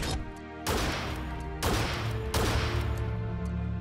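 The Mecha Fingro mount in Biomutant fires its built-in gun in three sharp, loud bursts about a second apart. Each blast leaves a ringing metallic tail, and there is no talking.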